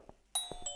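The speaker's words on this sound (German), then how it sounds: "Es klingelt an der Tür." A doorbell rings inside a house in the horror game Uncanny Valley, sounding as a sudden bright electronic chime that holds and rings out after a few soft taps.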